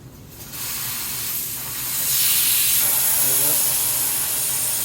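Air hisses steadily out of a Harley FXR motorcycle tire as its valve stem is unscrewed, a broad close rush that swells louder partway through and holds, with no talk over it.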